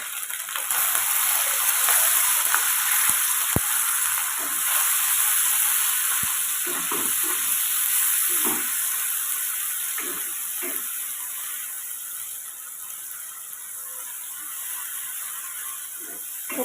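Ground tomato, ginger paste and spices fry in oil in a pan, a steady close sizzle with broad hiss running throughout and occasional faint stirring clicks, no voices.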